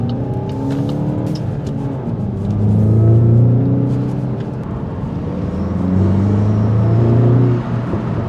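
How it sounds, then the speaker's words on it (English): Inside a moving VW MK8 GTI with 241 horsepower, the air intake and engine drone low and steady, swelling twice into deeper throaty rumbles as the car accelerates, then easing back, with faint road noise and no voices. "I'm hoping that while we're driving there, you guys can hear the sound of the air intake as well"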